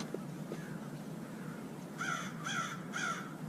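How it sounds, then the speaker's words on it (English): Carrion birds cawing outdoors, three harsh caws in a steady rhythm, preceded by a couple of fainter distant calls over quiet ambient noise. "Birds of carrion."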